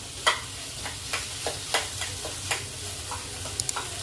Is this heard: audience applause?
no